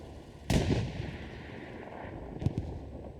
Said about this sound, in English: I just heard a tank shot and an explosion up here.